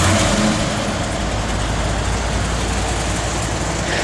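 A classic car's engine idles steadily and close by, a continuous low rumble with no breaks or revving, and no one talks over it.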